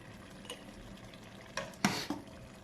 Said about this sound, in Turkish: Bunu biraz daha kaşık yardımıyla dolduruyorum.